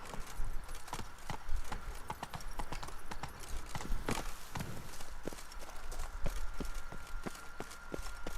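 Roach, Geralt's horse in The Witcher 3: Blood and Wine, gallops with steady, rhythmic clip-clop hoofbeats that stay close and even throughout, with no talk over them.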